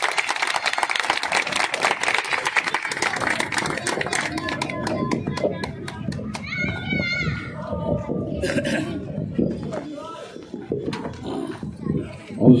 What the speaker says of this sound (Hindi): भरपूर तालियों में इस्तकबाल करेंगे।